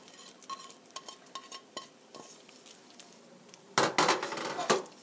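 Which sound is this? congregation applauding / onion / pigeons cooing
onion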